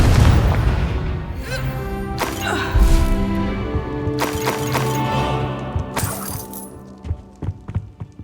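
A Confringo blasting curse cast in Hogwarts Legacy sets off several booming explosions and crashes over music, with sharp bursts around the middle and tapering smaller impacts at the end.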